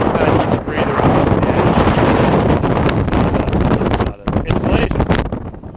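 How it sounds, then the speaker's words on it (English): Strong wind blows outdoors across a flooded meadow, roaring and buffeting the microphone in loud continuous gusts, with a brief lull near the end. "wind's picking up."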